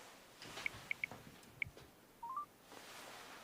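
A phone call being dialed that goes unanswered: a few distinct electronic keypad tones at an even pace, then a short rising tone sequence against a low background hiss, with no voice.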